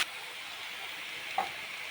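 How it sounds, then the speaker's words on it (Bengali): Potatoes frying in a pan with oil, a steady soft sizzle and hiss throughout, with a brief stirring scrape near the end. "লাল লাল করে আলুগুলো ভাজা হয়ে গেছে।"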